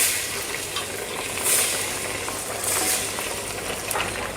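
Garlic sizzles and fries in hot oil in a pan, a steady crackling hiss with brief louder bursts of spattering, no talking over it.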